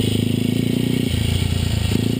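A 1969 Harley-Davidson Aermacchi Sprint single-cylinder engine running steadily at idle, with a loud, even thumping exhaust pulse and mechanical clatter, close by and continuous.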